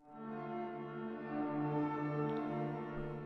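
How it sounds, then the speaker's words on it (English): A Matrix Echo preset from the Strezov Sampling Oracle sample instrument swells in as a sustained, tonal, horn-like drone rich in layered harmonics, steady and fairly loud, with a faint echoing shimmer and no voice over it. "got something like this called Matrix Echo, which sounds like this"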